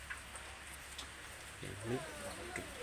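Rain falling, a faint continuous patter with scattered drops, heard softly beneath a voice.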